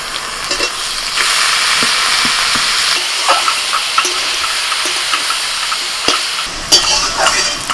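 Boiled taro leaves with mustard paste frying in a pan, a loud, steady hiss of sizzling with scattered spoon scrapes and clicks, close by, no talk.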